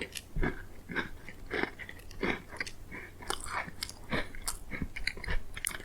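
A person bites and chews a vanilla Oreo cookie close to the mic, making repeated crisp crunches in an uneven rhythm with soft mouth noises and no talking.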